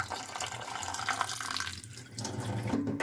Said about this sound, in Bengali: এবার ধুয়ে নিই ভালো করে, এতে বাছতে হবে না, 2-3 বার ধুতে হবে।